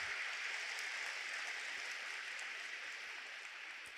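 A church congregation claps for Jesus during a Portuguese-language sermon, a soft, even spread of clapping that sounds somewhat distant and thins gradually toward the end.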